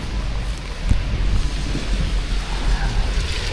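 Steady rain pours down with low rumbling underneath, a dense continuous wash of noise with no pauses and no voices.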